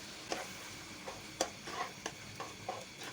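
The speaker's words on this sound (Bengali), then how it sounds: "মশলাটাকে আরও কিছু সময় নিয়ে ভালোভাবে কষিয়ে নেব।" Masala with tomato sauce for katla fish being stir-fried in a pan, a soft sizzle under irregular scraping stirs from a spatula, close and fairly quiet.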